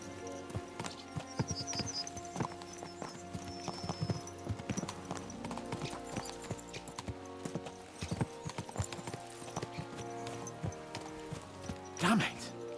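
Horses gallop in Kingdom Come: Deliverance 2, their hooves clip-clopping in a fast, rapid rhythm alongside jingling tack and a brief whinny near the end, with a voice speaking over it.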